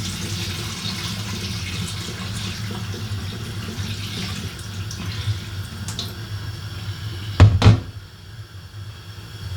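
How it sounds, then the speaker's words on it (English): Water drains steadily from a pot of soaked sticky rice, making a low, continuous trickling and splashing, ending with a couple of sharp knocks and clatters of the container. "So I'm draining the water out of the rice."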